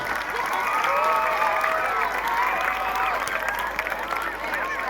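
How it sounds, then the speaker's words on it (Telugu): An audience at a school felicitation claps steadily, a dense wash of applause with voices and cheering mixed in. "ఒక్కసారి అందరూ చప్పట్లు కొట్టాలి."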